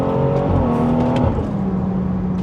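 A BMW 340i with the B58 engine heard from inside while driving, its intake and exhaust giving a loud, steady engine drone that eases slightly toward the end, with no talking.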